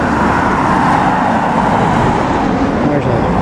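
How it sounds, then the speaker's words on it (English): A red Belfast tourist bus rolls by amid city street traffic, a dense, steady roar of engine and road noise that stays loud and close throughout with no pauses. "There's a red bus."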